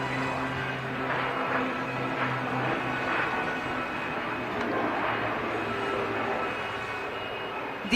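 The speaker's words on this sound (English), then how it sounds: "The aircraft is now recovering and coming in for a horizontal figure of 8 maneuver" Aircraft flying aerobatic maneuvers at the Aero India air show, a sustained engine roar from overhead that swells and fades gently, fairly distant and loud, with no clear speech.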